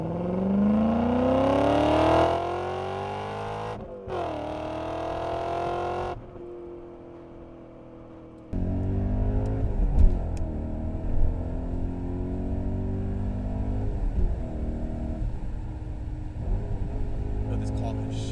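A BMW E39 M5 with a V8 engine revs and accelerates, its exhaust rising in pitch through the gears. A brief break follows, then a steady, loud, rumbling drive with some changes in tone.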